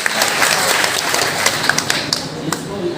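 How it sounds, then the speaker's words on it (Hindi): Audience clapping at a street magic show, a dense patter of many hands applauding together at steady moderate loudness for a few seconds, with scattered louder claps and background voices. "तो ताली बजाइए।"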